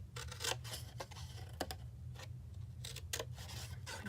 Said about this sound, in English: cut up the score line